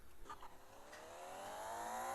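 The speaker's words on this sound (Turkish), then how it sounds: "Bakın motorunu bozduk diye egzoz patlatmış." A car with a damaged engine accelerates hard, its exhaust giving a few sharp pops early on before the engine note climbs steadily and grows louder, with no talking.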